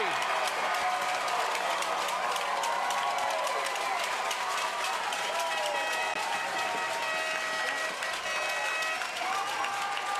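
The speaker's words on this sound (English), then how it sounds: "This crowd is on their feet." A capacity baseball crowd at Dye-Color Australia Stadium cheers and applauds in a sustained, dense roar of claps and shouts with the fans on their feet, steady and loud throughout.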